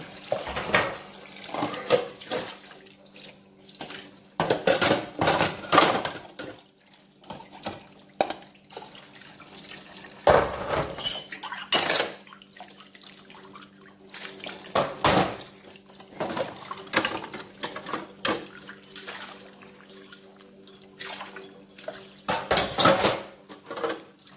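Dishes, pots and cutlery clatter in a home kitchen sink under a running tap, with water splashing and dripping as items are rinsed and knocked together in close, uneven bursts.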